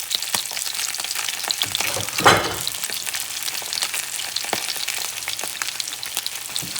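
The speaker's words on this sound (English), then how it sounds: "you're going to let that side cook for about a minute before you flip it" Blackened rainbow trout fillet sizzling steadily in a hot pan, a dense continuous crackle and hiss with a brief louder flare midway, heard alone and close.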